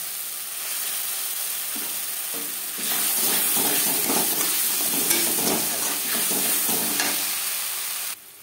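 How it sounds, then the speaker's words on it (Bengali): Mashed flat beans stir-fried with fried onions in a pan over a low-medium flame, with a steady sizzle and hiss and repeated scraping strokes of a spoon, close and continuous. "ভাজা পেঁয়াজের সাথে শিম বেশ ভালো করে মিক্সড করে দেব।"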